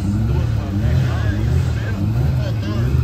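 A twin-engine Astra 4x4, with one engine at the front and one at the rear, runs with a loud steady rumbling drone while people talk nearby and a crowd murmurs in the background.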